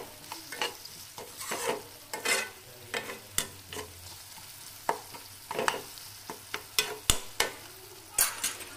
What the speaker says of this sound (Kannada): ಈ ಥರ ಮಾವಿನಕಾಯಿ ಹಸಿ ಸ್ವಲ್ಪ ಹಸಿ ಹುಳಿ ಥರ ಹೋಗೋ ತನಕ ಬಾಡಿಸಿದ್ರೆ